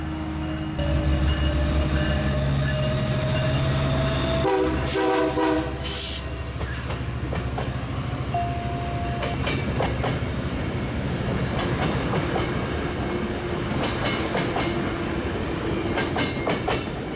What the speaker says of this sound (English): Amtrak 784 pulls